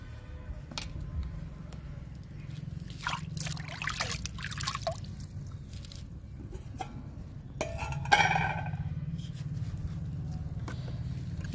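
Liquid plant fertiliser mixed in a bucket with leftover ridge gourd dal, onions and chillies, giving soft trickles, drips and sloshes with occasional light clinks against the container, fairly quiet and steady throughout.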